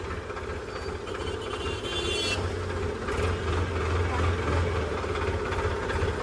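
A modified tractor's engine runs steadily at close range, a continuous low rumble with a rattling mechanical texture that holds at an even level from start to finish.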